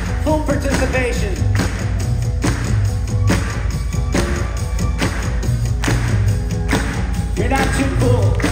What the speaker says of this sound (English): I see everybody clapping. Full participation.